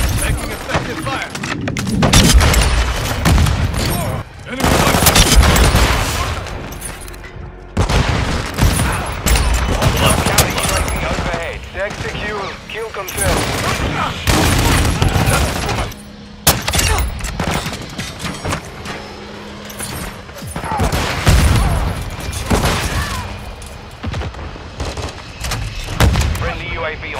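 Video game combat with heavy gunfire and explosions, dense bursts of shots and booming blasts throughout, loud and close, with voices talking over the action.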